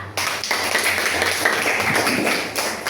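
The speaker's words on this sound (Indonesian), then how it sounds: "tepuk tangan untuk kelompok" A short burst of group clapping, steady and fairly close, from a small crowd of students in a classroom.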